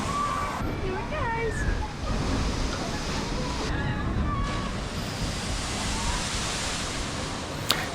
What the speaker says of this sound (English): Moving on to this splash ride,